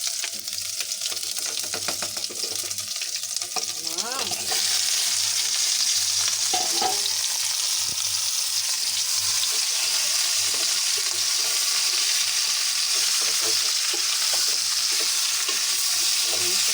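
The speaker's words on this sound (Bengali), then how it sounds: "মুরগির মাংস কষানো হচ্ছে দেখো কি পরিমাণ যে তেল বের হচ্ছে" Desi chicken pieces fry in plenty of oil with garlic and ginger paste, giving a steady close sizzle that grows louder partway through, broken by occasional scraping stirs of the pan, with no talk.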